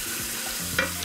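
Vegetables and broccoli stirred in fat in a pot for soup, a brief close sizzle with a soft scrape of the spoon, ending in a sharper clink.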